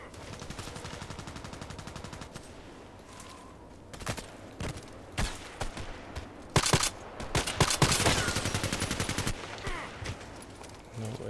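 Shooter video game gunfire with an EBR rifle: scattered single shots and quick bursts, some close and loud and others quieter, spread across a stretch of game ambience with little talk.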